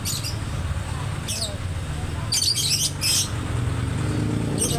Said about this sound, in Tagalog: Yan, ibon na yan o.